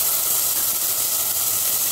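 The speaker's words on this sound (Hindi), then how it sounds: "ये चने हमने लिए हैं इनको हम तेल में वाले मसालों में डाल देंगे" Loud, steady sizzling hiss of chickpeas hitting hot oil and spices, crackling continuously without a break.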